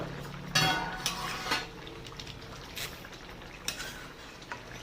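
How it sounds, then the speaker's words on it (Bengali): A lid comes off a pot of simmering dal with drumsticks, giving a few close metallic clinks and scrapes over a quiet kitchen background, with no voices. "ঢাকনাটা খুলে দেখবো ডালটা কতটা সেদ্ধ হলো"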